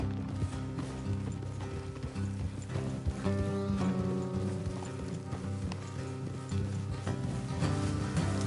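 Horse hooves clip-clop at a steady trot in the video game Red Dead Redemption 2, a continuous rhythmic patter under a constant background bed.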